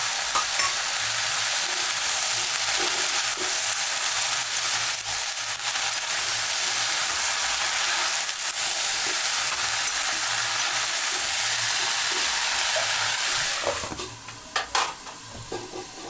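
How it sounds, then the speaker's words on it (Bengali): Potatoes and green chili fry in a pan with a steady, close sizzle and occasional stirring scrapes, alone without talk, quieting near the end. "ভাজা ভাজা হয়ে গেছে আমার"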